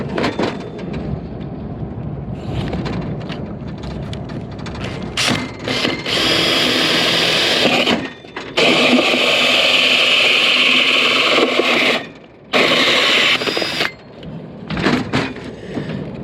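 Power drill cuts a hole in a boat hull, a loud close grinding whir running in long bursts with brief pauses and ratcheting mechanical rattles.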